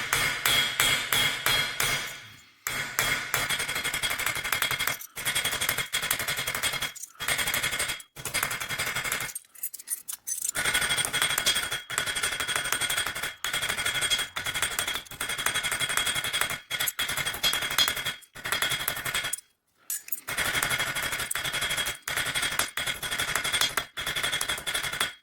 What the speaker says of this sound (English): Use a dull cross pane hammer is what I like.